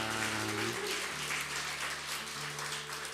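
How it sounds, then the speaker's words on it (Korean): A church congregation claps during a Sunday worship service, a brief wash of applause over sustained background music. "박수로 한번 축복하겠습니다"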